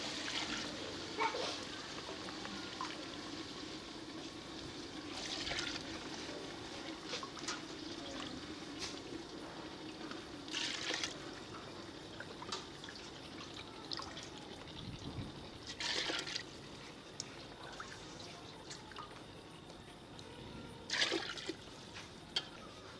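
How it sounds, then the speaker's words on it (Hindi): Water is poured over rice in a pot for vegetable pulao in several separate bursts, splashing and trickling, fairly quiet against a low background hum. "मैं 6 कोले पानी डाल रहा हूँ।"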